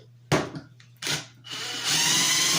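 A new DeWalt 12V Xtreme impact wrench runs in two short, loud bursts, then holds a steady, buzzing run to the end, close by with no talk.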